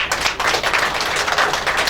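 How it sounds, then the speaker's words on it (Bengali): An audience at a Vijoya Sammelani gathering in Kolkata claps in a brief, steady burst of applause, close and fairly loud. "যে স্যার হাততালি হবে না এর জন্য একটা?"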